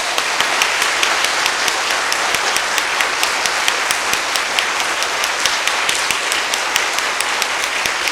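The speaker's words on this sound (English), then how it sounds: "We have to do claps, heartfelt, okay? So 5 seconds clap" An audience claps for about five seconds at a Republic Day celebration, giving a dense, steady wash of applause with sharp individual claps standing out, continuous throughout with no voices over it.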